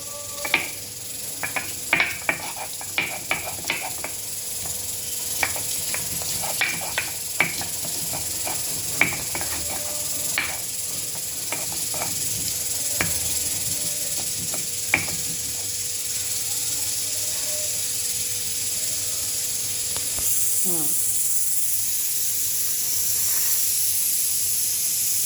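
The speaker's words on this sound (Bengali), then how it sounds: "5টি কাঁচামরিচ এভাবে পাটাতে আধা বাটা করে নিচ্ছি।" Green chilies being half-crushed on a stone grinding slab, with repeated sharp scraping and knocking strokes at an uneven rhythm over a steady hissy background, close and fairly loud, with no talking.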